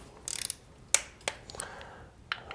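A torque wrench tightens motorcycle derby cover bolts in a quiet workshop: a fast run of ratchet clicks, then a few sharp, separate metallic clicks close by.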